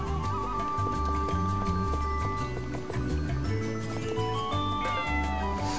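A cat meows repeatedly in a video game, drawn-out wailing, caterwauling calls sounding loud and close over a steady tonal game soundtrack.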